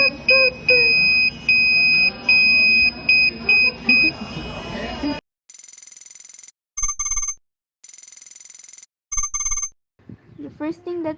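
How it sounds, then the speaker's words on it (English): An electronic buzzer sounds in repeated bursts, first as steady tones under background noise, then as loud harsh buzzes separated by silences. "When we pressed the button, the buzzer made a sound."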